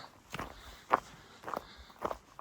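Footsteps of a hiker wearing microspikes on a wooded Appalachian Trail path, five crunching steps at a steady walking pace, close and clear with no talk.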